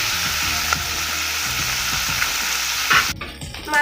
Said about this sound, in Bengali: যেহেতু সর্ষের মাছ তাই আমরা কড়কড়া করে ভাজবো না, হালকা ভেজে নিতে হবে